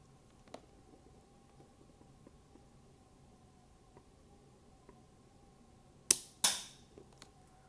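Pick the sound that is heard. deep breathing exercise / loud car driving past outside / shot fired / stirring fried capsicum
shot fired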